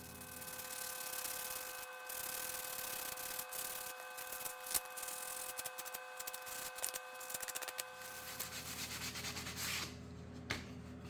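A shield-shaped anvil sign is sanded in a workshop, with continuous close rubbing and scratchy strokes in an irregular rhythm over a faint steady hum, fading to quieter work near the end.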